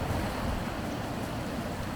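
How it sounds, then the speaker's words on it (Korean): Strong wind roars with the wash of high waves at sea off Baengnyeongdo island, a steady, dense, loud rush with constant microphone buffeting and no voices. "파도도 높고 강풍이 심해서 어제에 이어서 오늘도 배가 뜨지 않는다고 하네요"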